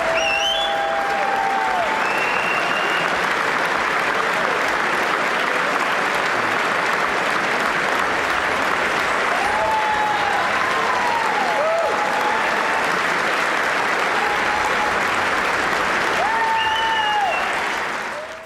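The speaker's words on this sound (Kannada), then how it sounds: "ನೆತನ್ಯಾಹು ಭಾಷಣಕ್ಕೆ ಅಮೆರಿಕದ ಸಂಸದರು 26 ಬಾರಿ ಎದ್ದು ನಿಂತು ಚಪ್ಪಾಳೆ ತಟ್ಟಿದ್ರು" US lawmakers give a standing ovation to Netanyahu's speech in Congress, a sustained, dense wall of applause from a large chamber lasting the whole stretch, with faint cheers and whistles rising through it.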